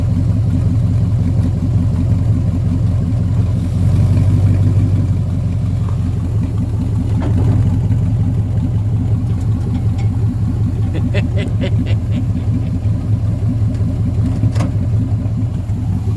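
A car engine idling just under 1,000 rpm gives a loud, steady low rumble throughout, with a few light clicks and ticks in the later seconds.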